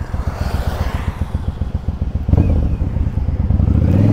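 Motorcycle riding through a severe thunderstorm, its engine thumping in a fast steady rhythm up close, then swelling louder as it accelerates, with wind roaring over the microphone.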